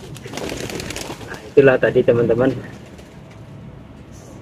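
Kolong pigeons give a short burst of rhythmic, pulsing coos up close, preceded by someone speaking, then the sound fades to quiet.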